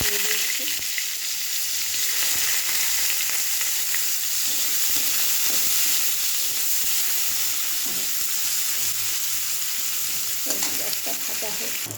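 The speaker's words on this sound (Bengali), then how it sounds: "পেঁয়াজটা ভাজা হোক।" Onions fry in a pan with a loud, steady hiss and sizzle that runs throughout, and occasional stirring scrapes and clinks sit close up.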